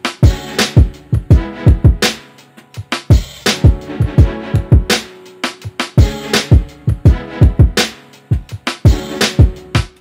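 Hip hop beat built in FL Studio, with punchy kick and snare drums in a repeating pattern under keys and strings that follow the chords, loud and full, no voices.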